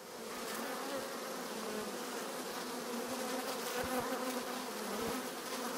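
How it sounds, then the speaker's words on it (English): Honey bees buzz densely around a beehive frame being cleaned while preparing a hive for a Snelgrove board, a close, continuous swarm hum with small bumps of handling. "Just want to try and get rid of most of the bees."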